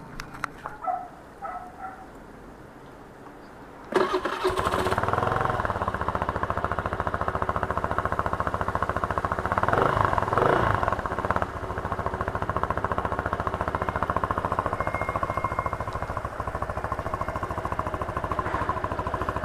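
A Rusi Flex motorcycle fitted with a Yamaha Mio muffler tip starts after a few seconds of quiet clanks and settles into a loud, steady idle that runs close by for the rest of the time. Nobody speaks.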